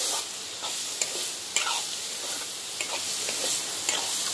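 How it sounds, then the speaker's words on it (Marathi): Masala being stirred and fried in hot oil, a steady close sizzle with a few scraping stirs, no voices. "त्याच्यात आपली मास्टर जी असत काढलेली ती त्याच्यात परतून घ्यायची तेलातच."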